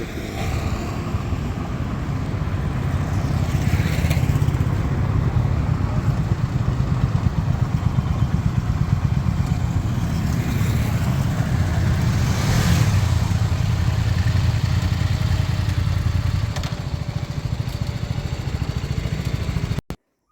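A KTM Adventure motorcycle engine runs steadily for a long stretch, a loud, close throbbing drone with slight swells in pitch, no talking.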